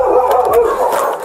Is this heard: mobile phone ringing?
no